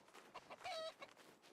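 A chicken in the RuneScape: Dragonwilds video game gives a few short clucks and one louder drawn-out squawk, close and clear, with no talking.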